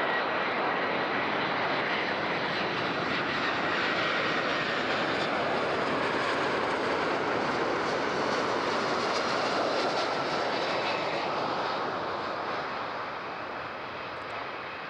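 An airliner lands on runway 14 at Zurich airport, its engines making a loud, broad roar that holds steady and then slowly fades toward the end.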